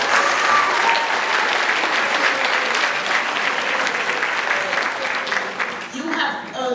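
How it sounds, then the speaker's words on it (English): Graduation audience at a 2022 North Port ceremony breaks into sustained, loud applause, a dense wash of many hands clapping steadily from start to finish before easing slightly at the end. "Give yourself another round of applause."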